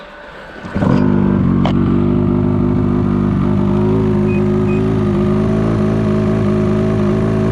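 A Ski-Doo mountain snowmobile engine starts up and settles into a loud, steady idle close by, running on without talk.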